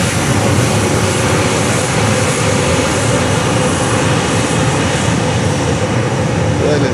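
A jet airliner takes off at Fort Lauderdale airport, its engines producing a loud, steady roar that stays constant and close throughout, with faint voices mixed in underneath.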